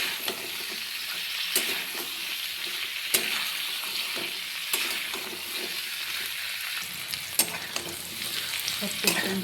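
Carrots and beans fry in a pan with salt, making a continuous bright sizzle broken by occasional stirring clicks and scrapes of the spatula.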